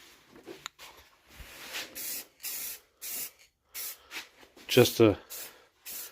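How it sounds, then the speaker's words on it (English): A Rust-Oleum spray paint can hisses out light coats onto a model kit in short, repeated bursts. A voice speaks quietly between and over the sprays. "some light sprays"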